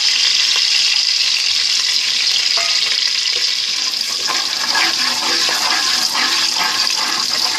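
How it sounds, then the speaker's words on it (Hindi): Almonds and pistachios fry in a pan for sweet zarda rice, a loud, steady close sizzle with some stirring scrapes throughout. "बादाम और पिस्ते को थोड़ा सा गोल्डन ब्राउन होने देंगे।"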